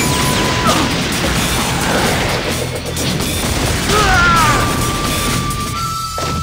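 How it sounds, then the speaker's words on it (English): The Earth Style Ripping Drill jutsu in Naruto Shippuden: Ultimate Ninja 4 on PlayStation 2 erupts in loud crashing and rumbling impacts with whooshing, sustained effect tones and constant layered game noise. "Earth style, ripping drill bang!"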